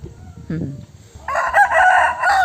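A brief cluck, then a rooster crows loudly and close by, a long strained call over faint background noise.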